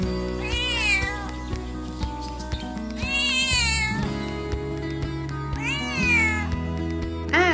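Cat meows from the Sakura School Simulator video game, three loud, drawn-out calls at roughly even intervals over steady background game music, with no talking.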